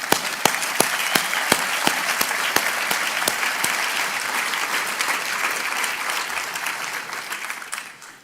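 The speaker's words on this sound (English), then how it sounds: "let's have a round of applause for Ontario" An audience at a public event where Ontario's Premier Ford speaks breaks into applause; a few sharp, separate claps at first quickly swell into dense, sustained clapping that fades near the end.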